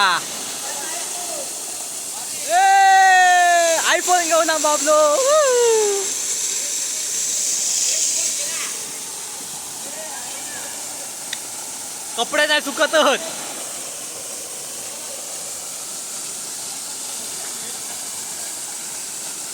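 A waterfall running after the first monsoon rain in May rushes with a steady broadband hiss throughout, while people talk over it at moments.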